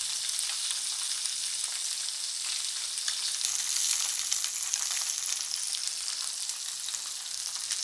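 Tofu pan-frying in perilla oil gives a steady, bright sizzle with crackling pops. It runs evenly and close up, with no voices.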